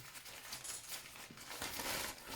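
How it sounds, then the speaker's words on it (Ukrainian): Plastic near-airtight shoe bag for carrying footwear and clothes, crinkled and rustled by hand in irregular soft bursts, close and fairly quiet, with no talk. "Це пакет для взуття."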